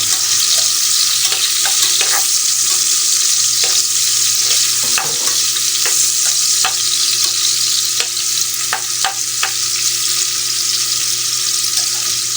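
Chopped onion hits hot oil with ginger in a pan while cooking balbacua of beef skin, giving a loud steady sizzle. Sharp scrapes and clicks of stirring come through at irregular intervals.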